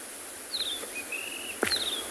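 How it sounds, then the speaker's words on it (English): A white-throated robin-chat at dusk on a safari calls with a few clear, whistled phrases, rising and sliding notes spread over two seconds, fairly close against quiet bush background with a faint rustle. "A white-throated robin chat shouting at me here."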